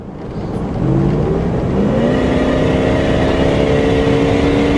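The engine of a supercharged Hummer H2 truck revs up hard under acceleration, a loud, steady roar with rising whine tones that climb and hold, heard from inside the cabin without talk.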